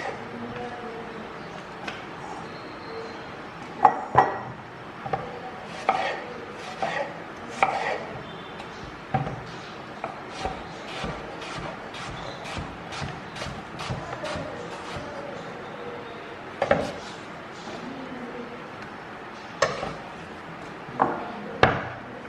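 A knife cuts an apple into thin, even slices on a board for an apple galette, giving a series of crisp, close chopping taps in an uneven rhythm with short pauses between them.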